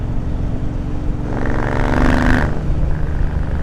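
Triumph Bobber motorcycle fitted with reverse cone slip-on exhausts, its engine rising in a brief rev over a steady idle rumble before settling again.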